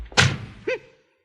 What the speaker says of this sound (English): And close the door behind you.